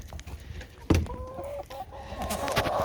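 Several chicken hens in a backyard coop converted from a playhouse, including Cochins and an Easter Egger, cluck and call with rising tonal squawks, close and fairly loud, with a sharp bump near the start.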